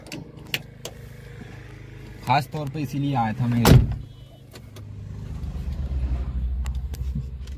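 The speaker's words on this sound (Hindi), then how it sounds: "इसका साउंड भी सुनाऊंगा अभी आपको मैं, अपनी महिंद्रा की बुलेरो का।" A modified 2023 Mahindra Bolero with about 133,000 km on it: after someone speaks and a few clunks, the engine settles into a low, steady rumbling idle that continues to the end.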